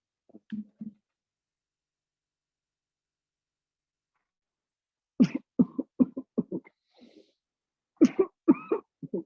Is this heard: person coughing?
yes